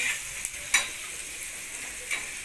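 Onions frying in a pan with home cooking underway, a steady bright sizzle running throughout, punctuated by a few sharp scrapes and clinks as a spoon stirs them, close and alone without talk.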